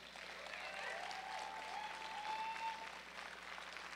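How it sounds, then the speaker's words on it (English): Faint applause from an audience at a powerlifting national championship rises and holds for several seconds, quiet and distant, with a few thin whistle-like tones over it. "Please give them a round of applause."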